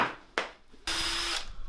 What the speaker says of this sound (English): So we're going to drill this one down here.